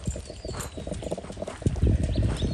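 A gaited horse's hooves clip-clop across an arena at a foxtrot, an uneven run of soft thuds growing slightly louder and closer, with no speech over them.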